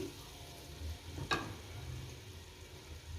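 Half a kilo of sliced carrots dropped into a pulao pot of frying vegetables, a soft steady sizzle with one sharp clatter as they go in, no voices.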